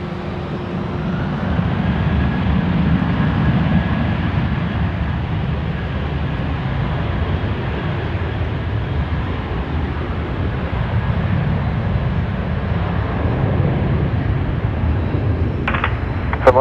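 A Jetstar airliner taking off from runway 16 right at Sydney Airport, heard as a broad, steady roar of jet engines at a distance that holds fairly even throughout.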